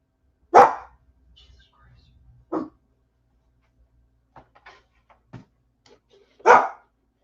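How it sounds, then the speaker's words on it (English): A dog barks in three separate loud, close bursts spread apart, with quieter faint noises and brief murmurs in between, heard over a phone or stream connection. "My dog can hear your dog barking through my headphones"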